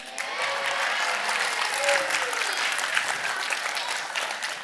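Sustained applause from a theater audience at Shea's Performing Arts Center, steady and full throughout, with scattered crowd noise and no talk over it.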